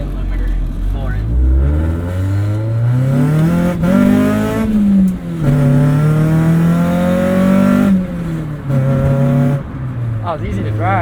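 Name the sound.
1996 Acura Integra B18 engine revving to the rev limiter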